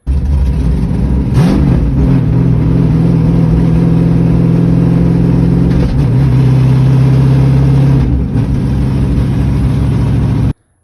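Car fitted with a face-plated T56 manual transmission, heard up close as its engine revs and drones steadily while driving, with a brief shift or pitch change partway through before cutting off at the end.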